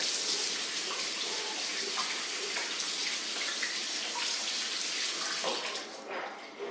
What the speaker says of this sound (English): I'm gonna wash my hands, which I already did, but I'm gonna do it again.